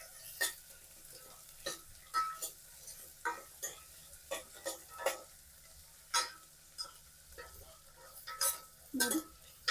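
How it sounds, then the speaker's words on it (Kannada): Onions and soaked peas fry quietly in a pan for vegetable pulao, a faint sizzle broken by irregular sharp clicks and scrapes of stirring, spaced out over the whole stretch. "ಇವಾಗ ಈರುಳ್ಳಿ ಬಟಾಣಿ ಚೆನ್ನಾಗಿ ಫ್ರೈ ಆಗಿದೆ"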